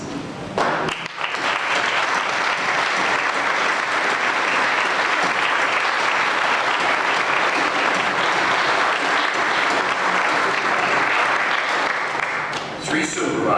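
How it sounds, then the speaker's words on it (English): An audience gives a steady round of applause for former county supervisors at a Columbia County Courthouse dedication ceremony, with loud, dense clapping that lasts several seconds before tapering off. "I'd ask any members of the Board of Supervisors who were present, former supervisors, to stand so we can give them a round of applause."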